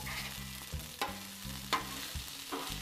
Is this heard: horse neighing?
no